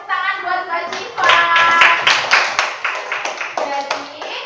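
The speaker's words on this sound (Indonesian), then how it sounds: "tepuk tangan buat Mbak Siva" Students in a classroom clap for a presenting group, a brief round of scattered, fairly close handclaps that rises quickly and tapers, with a voice speaking just before it starts.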